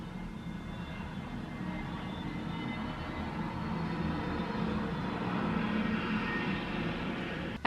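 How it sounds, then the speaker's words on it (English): A plane passes overhead outdoors, a steady broadband engine roar that swells slightly toward the end and holds without any talk. "I saw there's a plane flying over."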